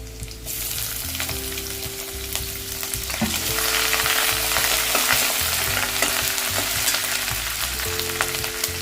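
Loud, steady sizzling of grated ginger frying in hot oil with chopped onion, crackling continuously throughout, with a faint low hum running beneath.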